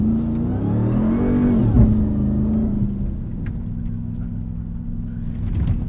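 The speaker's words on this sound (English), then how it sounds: "It's so fast. All you hear is supercharger." A supercharged 2021 Ram 1500 TRX pickup revs hard on sand dunes, its engine roaring and whining loudly up to a peak, then settling into a steady, rumbling drone.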